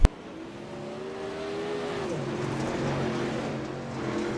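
Race cars roar around a dirt oval track during a heat race, a steady engine drone that rises and swells as cars pass nearby, with no talk.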